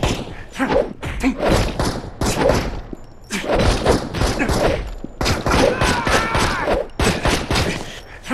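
Bursts of rapid gunfire from the mobile action game Gangstar Vegas, loud and close, in repeated volleys with short gaps between them.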